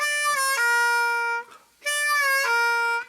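A harmonica playing a drawn note on hole 3 with a light half-step bend, heard as two long sustained bent tones separated by a short breath gap, clear, close and alone.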